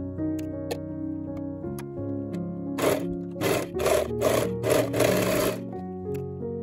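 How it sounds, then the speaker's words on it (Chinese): A sewing machine stitches the shoulder seams of a Halloween costume made from an old blanket. It runs in several short rapid bursts close by, over a soft steady musical background. "现在把衣服的前后片从肩膀上缝起来"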